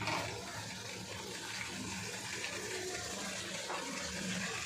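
Water from rinsing the spices is poured into frying spice paste for a koi fish curry, giving a steady, soft gushing and sizzling wash that carries on throughout.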